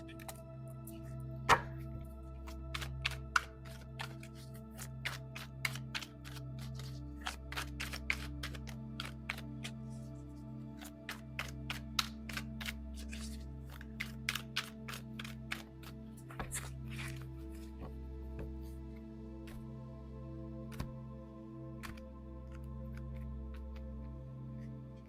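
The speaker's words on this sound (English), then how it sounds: "Let's go ahead and pull a prophecy card for you." Tarot prophecy cards are shuffled by hand in soft, irregular bursts of quick riffling and tapping over about twenty-five seconds, close and fairly quiet, alone against a steady low hum.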